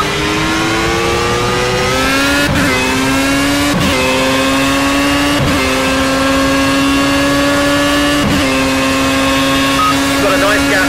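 Formula A open-wheel race car engine in Project Cars at Silverstone National, a loud steady high-pitched whine climbing through the gears with brief dips at each shift, joined by other cars, under a voice.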